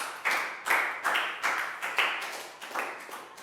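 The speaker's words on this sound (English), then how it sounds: "Big round of applause for Pak Bung." A small classroom group of young pupils claps for a classmate, a quick run of about eight close, bright, rhythmic bursts of hand claps.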